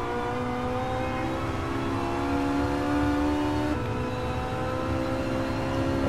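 A Ferrari 458 tuned to 900 hp accelerating on a track, steady close engine whine rising in pitch, a quick gear change, then climbing again at constant loudness.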